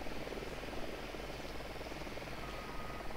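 Steady, loud helicopter rotor and engine roar in Ghost Recon Wildlands, a constant broadband drone with a faint rhythmic chop, continuing unchanged throughout.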